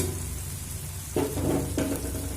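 Pre-fried potatoes tipped into hot, oily masala for matar paneer, with a steady sizzle that swells into two louder, hissing bursts as the pieces land in the pan; no voices.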